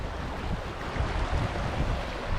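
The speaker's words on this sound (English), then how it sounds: "there's about a 7-metre wide river in the way" A river about seven metres wide on Exmoor runs steadily nearby with a broad, constant rushing wash, mixed with wind buffeting the microphone and no talking.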